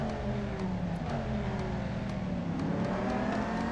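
A car in the racing game Real Racing 3 accelerates hard from a standstill, its engine roaring loud and close with rising revs through the gears.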